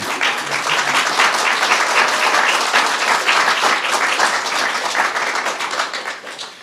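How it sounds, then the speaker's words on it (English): An audience at the swearing-in of the Secretary of Veterans Affairs applauds, a dense, even wash of many hands clapping that holds steady throughout and fades slightly at the end. "You may applaud."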